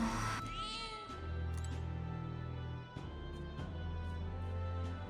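Cat meowing in the video game Metaphor ReFantazio, a rising meow near the start followed by steady game ambience and a low music bed, with no talking.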